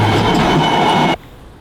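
Loud, steady rumble and rattle of a passing train, with wheels clattering on rails. It runs heavily and continuously, then cuts off sharply just past a second, leaving quiet.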